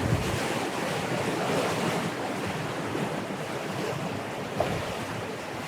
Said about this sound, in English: A couple of huge waves,